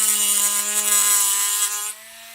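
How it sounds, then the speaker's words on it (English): A Dremel rotary tool grinds down a plastic part with a loud high whine and buzzing harmonics, the abrasive rasp cutting out near the end as the motor keeps spinning more quietly. "We just have to Dremel it down."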